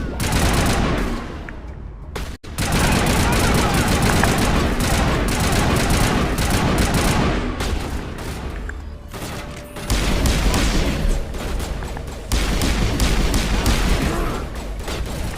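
Rapid gunfire in the Mass Effect 1 game rattles loudly in long, dense fusillades with booming impacts and a brief silent gap early on, sustained nearly throughout.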